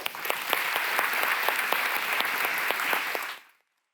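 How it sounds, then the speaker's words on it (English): An audience at an innovation festival closing session applauds, a loud, sustained round of clapping with a few sharper claps, lasting about three seconds before fading to silence. "Give them an applause."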